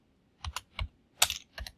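Several quick, light key presses on a computer keyboard, about five separate clicks in an irregular rhythm, close by and quiet.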